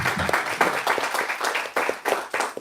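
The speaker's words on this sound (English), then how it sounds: "Give a round of applause" Applause from the audience at a community talk on famine, food and freedom, a short burst of brisk, fairly dense clapping with slight dips and surges.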